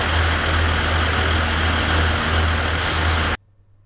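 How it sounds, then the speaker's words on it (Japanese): Several KiHa 110 diesel railcars idle in a depot at the Gunma rail vehicle center, a steady, loud low diesel drone with a constant hum that cuts off abruptly near the end. "構内には主に8号線で使用されるキハ110系が大量に留置されており、アイドリングのエンジン音が至る所から聞こえてきます。"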